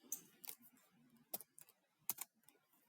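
Light tapping on a computer keyboard, irregular clusters of soft clicks close by and quiet, alone without talk.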